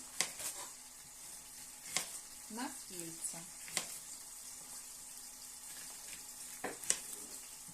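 A patty sizzles in a pan with a steady frying hiss, punctuated by sharp clicks and knocks; a person speaks briefly partway through.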